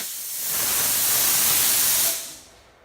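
A thick burst of steam shoots from a Steam Fluids effect machine as a loud, broad hiss that swells, holds for about two seconds, then cuts away quickly.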